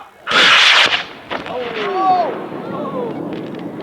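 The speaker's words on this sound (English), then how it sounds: "We are armed. Rack 3, pad 4. Launching in 5, 4, 3, 2, 1, go." A high-power rocket launches from a pad at an outdoor launch event: a loud, roaring burst of about half a second, then a fading rumble as it climbs away, with voices and cheering heard over the tail.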